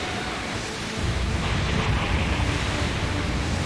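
Surf-like rushing water in the Super Robot Wars 30 video game, a steady broadband wash that swells after the first second and continues alone at moderate level.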